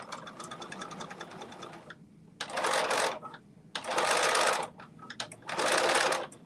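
Sewing machine back stitching a belt wallet, running in three loud, close bursts of rapid stitching separated by short pauses with softer handling noises between.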